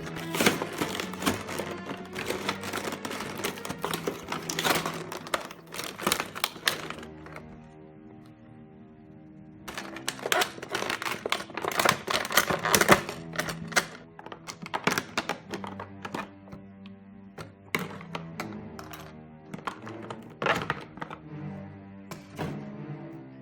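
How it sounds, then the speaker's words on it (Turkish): Cardboard packaging of a Marvel Select Deadpool action figure being torn open by hand, with repeated crackling rips and rustles in bursts separated by brief pauses, close and fairly loud, with no talking. "Ve kutuyu açmaya başlıyorum. Bu taraftan yırtarak açıyorum."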